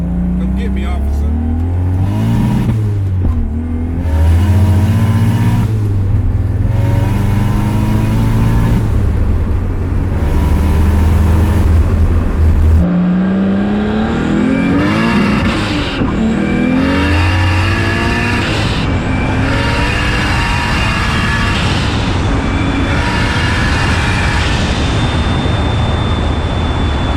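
A Lexus LS400 fitted with a 1JZ engine revs hard and loud, close by, in repeated surging bursts that climb and drop, then settles into a rough, rumbling idle broken by further sharp blips of the throttle.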